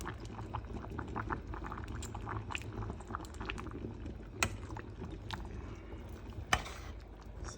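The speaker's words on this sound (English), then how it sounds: "As the water boils," Water bubbling at a steady rolling boil in a pot for spaghetti, close by, with a couple of sharp clinks of a utensil.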